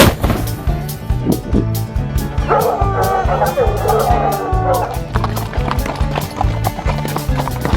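Hound dogs bark and bay repeatedly outdoors, fairly close, over a steady clopping rhythm like hooves on the trail.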